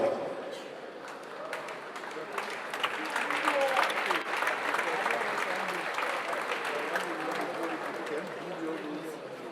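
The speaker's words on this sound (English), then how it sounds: "A round of applause for him." Audience applause for a donor who has given one million at a politician's public event, sustained dense clapping from a crowd that holds steady throughout.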